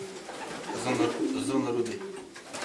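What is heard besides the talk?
pigeons cooing in a loft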